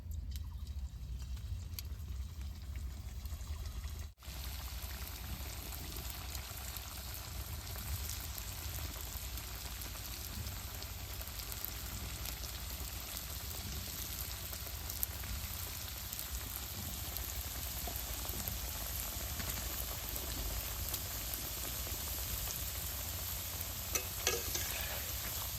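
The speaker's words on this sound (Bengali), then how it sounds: "তেলটা গরম হয়েছে, পিঠাটা সুন্দর করে ভাইজা নেব" Banana pitha fries in hot oil, a continuous dense crackling sizzle that holds steady and fairly close throughout, broken only by a brief dip near the start. No voices are heard.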